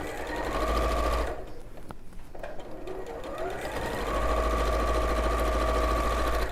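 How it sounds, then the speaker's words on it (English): A sewing machine stitches quilt seams along a raw edge, running in a loud, steady whirring hum for over a second, pausing briefly, then starting up again and running steadily to the end. "And then sew along that edge, along that raw edge, sew them together."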